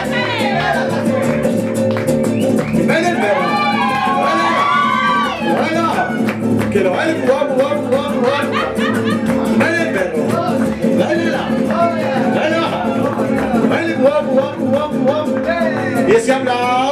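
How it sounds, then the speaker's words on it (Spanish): Live audience applause and cheering at a youth mariachi school performance, a dense, continuous wash of clapping and voices mixed with music throughout, loud and steady. "Y ese aplauso."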